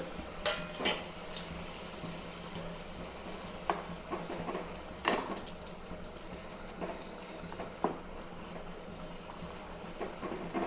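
Papadums frying in hot oil for a traditional Kerala meal give a faint, steady bubbling sizzle with a few sharp clinks and scrapes scattered through it.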